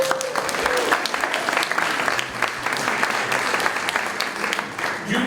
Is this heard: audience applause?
yes